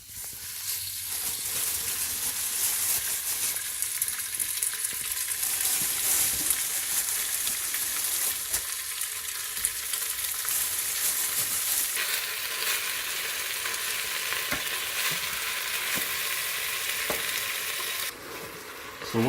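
Beef browns in a pressure cooker with a loud, continuous sizzle and occasional stirring scrapes, holding steady and close throughout.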